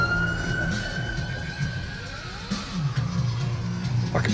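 A distant emergency siren wails with a slow sweeping pitch over a steady low rumble of traffic or engine noise.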